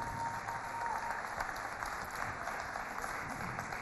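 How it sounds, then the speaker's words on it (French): Crowd applause at a gathering, continuous and even, heard from a distance at modest loudness with a steady background hiss. "Et je voudrais vous demander d'applaudir très fort"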